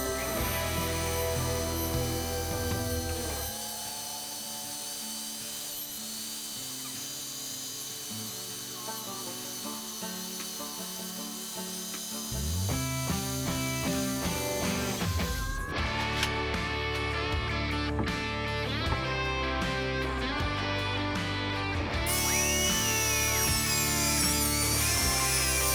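A high-speed router whines steadily as it cuts a wooden cross, a continuous close buzzing that shifts in pitch and intensity over a long stretch.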